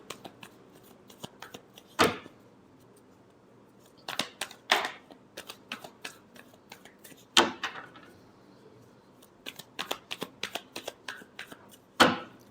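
Tarot cards being shuffled by hand, a series of sharp riffling flutters and taps in irregular bursts, close and fairly quiet with silent gaps between.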